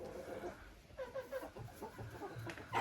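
Hens clucking and murmuring inside a freshly cleaned chicken coop, several birds calling close by in short irregular bursts, with a scrape of feet on the bare floor.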